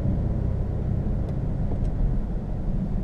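A 2015 BMW 328xi driving on local winter roads, heard from inside as a steady, loud low rumble of engine and road noise without talk.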